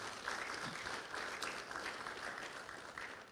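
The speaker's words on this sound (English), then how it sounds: "Can we have one more round of applause for our presenters this morning?" Audience at a wastewater and stormwater partnership steering committee meeting claps for the morning's presenters, a quiet, even patter of applause heard from a distance, without speech.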